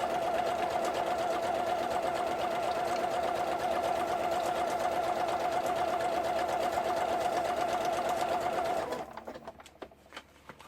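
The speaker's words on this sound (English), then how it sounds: "So I'm not sewing these together, I'm sewing these separately." A sewing machine runs a steady zigzag seam, its close, even mechanical hum continuing unbroken for about nine seconds before it stops, leaving a few faint clicks and handling noises.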